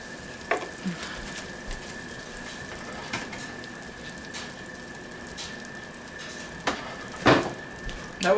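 Butter, four tablespoons, melting in a pan for biscuits-and-gravy roux, giving a faint, steady sizzle with a few louder crackling bursts and soft stirring clatter, no talking.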